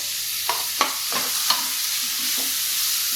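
Onions frying in a pan for a soya chunk curry, with a handful of soft scraping stirs in the first second and a half and a steady quiet sizzle underneath, no talking.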